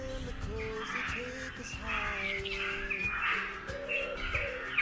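Several birds call outdoors near sand dunes, a busy mix of chirps, tweets and cooing notes that overlap continuously at moderate distance.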